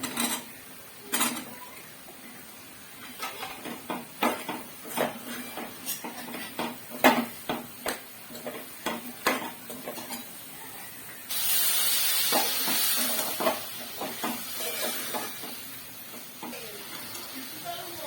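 Mushrooms going into hot oil with fried spices for a chana dal mushroom dish, giving a stretch of steady hissing sizzle after a series of sharp clinks and taps of utensils against the pan.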